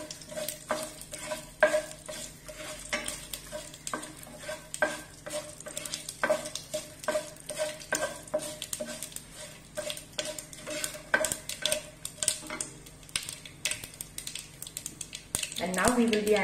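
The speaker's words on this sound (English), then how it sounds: "And now we will be adding 4 red dry chilies. Just mix it up for 2-3 minutes," Four red dry chilies sautéed in oil for South Indian sambar, with a steady sizzle under rapid, irregular clicks and scrapes of a spoon stirring against the pan, close and continuous throughout.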